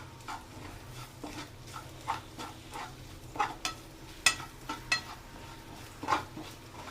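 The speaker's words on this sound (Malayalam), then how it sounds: "എന്നിട്ട് ഇത് നന്നായിട്ട് നമുക്കൊന്ന് മൂപ്പിച്ചെടുക്കണം." Spice powder being fried and stirred in a pan for beef ularthiyathu, a soft sizzle broken by intermittent scrapes and clinks of the spoon against the pan, with no talking.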